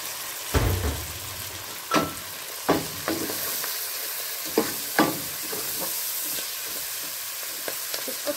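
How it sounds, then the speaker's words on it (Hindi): Fenugreek leaves and minced meat fry in hot oil under a steady sizzle, with a series of distinct stirring scrapes and knocks spaced through the clip. "थोड़ा सा भूनेंगे।"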